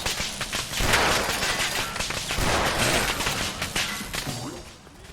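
Turrets fire at enemies in Fallout 4 in rapid, dense bursts of gunfire. The shots sound close and continuous, like an ongoing fusillade with a crashing edge.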